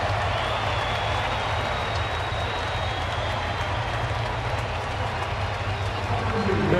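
Baseball stadium crowd roaring steadily as a run scores at a Brewers–Padres game in San Diego, a dense, sustained wash of cheering with no single voices standing out, holding loud throughout and swelling slightly at the end.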